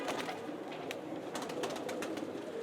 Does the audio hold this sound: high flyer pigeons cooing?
yes